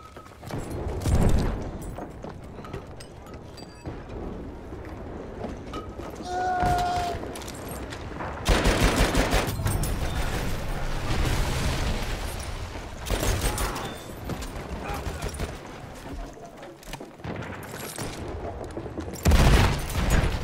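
Battlefield video game combat fills the scene with repeated heavy explosions and bursts of gunfire, some loud booms near and others further off, rising and falling in waves while a player talks.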